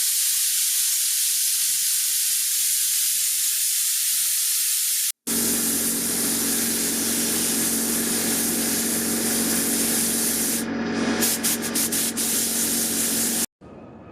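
An air blowgun held about a foot and a half away dries a coat of paint during a 1999 Acura RL starter replacement; a loud, close, continuous hiss of compressed air, cut off briefly once before resuming.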